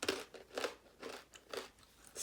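Crispy Guyanese methai (kurma) snack crunched close up in a steady run of about five bites, each a sharp crackling burst with brief pauses between, no talking.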